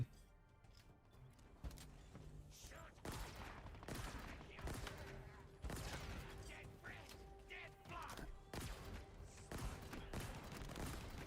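Faint, rapid bursts of gunfire from the Halo Infinite campaign crackle in repeated volleys against a low background hum, with sharp impacts scattered throughout.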